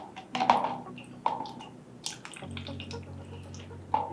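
Extra water is poured out of a mixing bowl during a library craft session, giving a few close splashes and drips over a quiet background.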